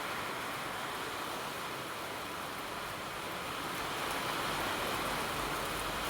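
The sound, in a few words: heavy rain falling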